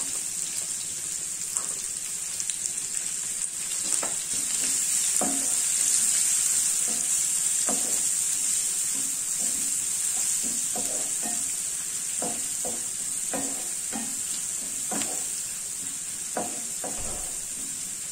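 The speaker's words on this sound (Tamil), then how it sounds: "கருவேப்பிலை பொரிஞ்சதும் இதுல நம்ம வெங்காயம் ஆட் பண்ணிக்கலாம்" Curry leaves and onions frying in a pan, a steady bright sizzle running throughout with scattered soft clicks and pops of stirring layered over a faint low hum; no one speaks.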